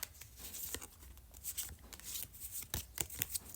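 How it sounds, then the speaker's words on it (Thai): Tarot cards being shuffled and drawn at a table, a run of soft papery riffles and flicks with sharper card snaps toward the end, close and quiet with no talking. "ขออนุญาตเป็นตัวแทนจับไพ่ก่อนนะคะ"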